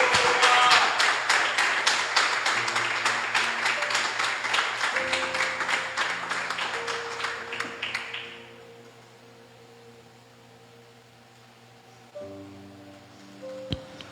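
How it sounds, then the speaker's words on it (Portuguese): A church congregation claps together in a dense, steady burst of applause over sustained keyboard chords for several seconds; the clapping then fades out, leaving only the instrumental music playing. "Aplauda o Senhor Jesus."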